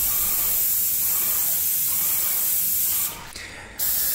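A Vevor 450 airless paint sprayer shoots white semi-gloss paint through its wand, giving a loud, steady, close hiss that cuts out briefly near the end before resuming, with no voices.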